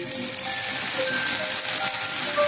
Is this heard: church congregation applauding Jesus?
no